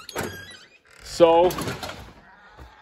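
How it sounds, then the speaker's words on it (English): A door is opened and gives a brief, loud squealing creak mid-way, with a clunk before and after. Someone talks over and around the sound. "I'll open the door and show everybody."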